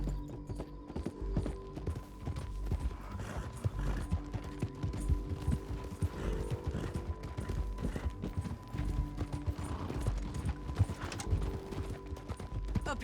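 Steady clip-clop of a galloping horse in Red Dead Redemption 2 runs throughout at a close, even rhythm, with creaking tack and faint ambient game sounds beneath.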